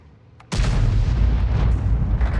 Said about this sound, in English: we're still firing the armor piercing